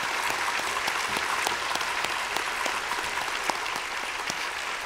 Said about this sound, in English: give a round of applause to God.